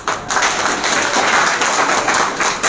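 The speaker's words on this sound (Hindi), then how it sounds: "एक ताली बजा दो यार" A small group clapping hands in applause during a campus tour, steady and moderately loud for a couple of seconds after a short quiet start.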